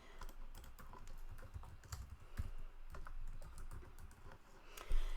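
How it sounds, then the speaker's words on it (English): Steady computer-keyboard typing, light clicky keystrokes tapping in irregular bursts, close and quiet, with no talking. "You just start typing."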